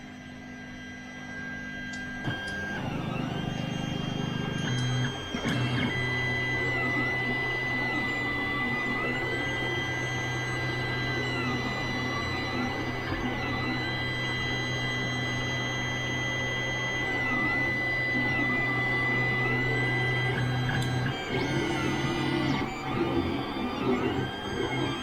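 A Creality Ender 3 and an Anet ET4 3D printer run side by side, their stepper motors whirring in shifting tones over a steady low mains hum, fairly quiet and continuous without speech.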